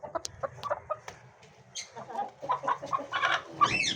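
Chickens and chicks clucking inside a backyard cage, a series of short, fairly faint clucks and chirps close by, growing busier toward the end.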